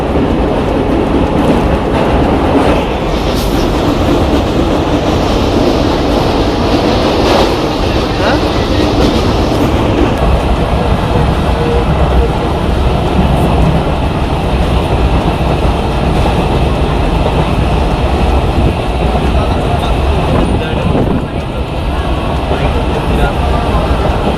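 A train travelling from Khulna to Mongla rumbles steadily with a continuous close, loud roar and rail clatter, and people talk faintly throughout.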